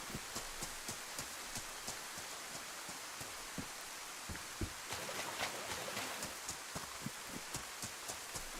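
Steady, faint rainfall in the video game DayZ, with soft scattered drop ticks, continuous and even throughout.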